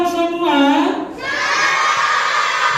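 A loud crowd of children at a Christmas celebration shouts a greeting together in one long sustained cry that rises and then trails into a drawn-out cheer.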